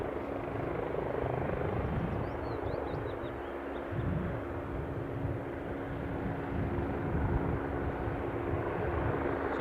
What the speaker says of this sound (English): Maybe I can hear a helicopter strumming away.